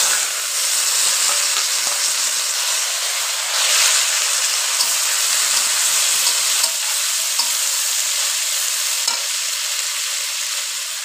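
Bitter gourd and potato pieces fry in hot oil with dried red chilies and a bay leaf, giving a steady, loud, close sizzle and hiss that runs unbroken for the whole stretch, with no voices.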